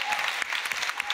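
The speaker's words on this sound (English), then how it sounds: "And let me hear your applauses." Audience applause at the jPrime 2019 conference closing, a dense, steady wash of clapping from a crowd that holds at an even level throughout.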